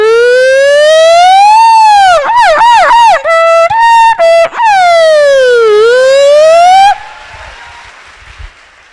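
A comedian imitates several ambulance sirens sounding together with his voice, a loud close wail broken into rapid warbling yelps and stutters, then a long sweeping tone, ending with faint audience noise.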